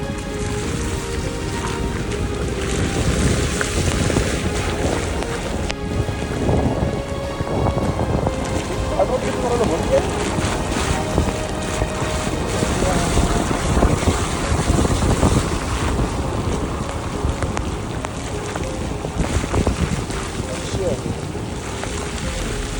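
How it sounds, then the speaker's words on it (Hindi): Heavy rain pours steadily through a forest near the Bhimbetka rock caves, a dense, continuous hiss that stays loud and unbroken throughout, with wind gusting over the microphone. "जैसे ही मैं अंदर गया वैसे ही बारिश और तेज़ होना स्टार्ट हो गई"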